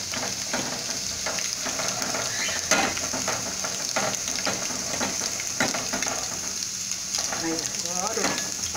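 Garlic frying in a pan for sautéed green papaya, a continuous close sizzle with scattered stir scrapes and clicks, and a faint voice briefly near the end.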